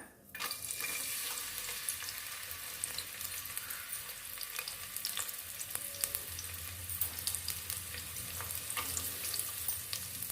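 Chopped onion and a bay leaf fry in hot oil, a steady close sizzle that continues throughout with occasional stirring clicks and no talking.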